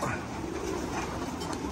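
Racing pigeons in a loft cooing softly, a low continuous murmur close by, with a faint voice in the background.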